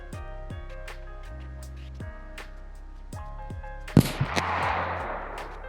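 .22LR rifle shots at a range, sharp cracks spaced irregularly with tonal ringing between, then a louder crack followed by a rushing burst of noise, fairly close with no talking.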